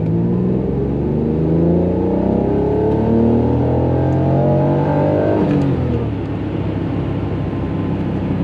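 An Acura NSX engine with about 320,000 miles revs steadily and loud during a fuel pressure test, a sustained rising and falling drone that drops off and settles near the end, with no talking.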